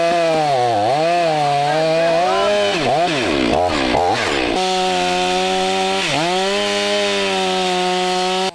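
Two-stroke chainsaw held at wide open throttle while cutting through a fallen tree across a track, a loud close engine scream that dips under load and then recovers.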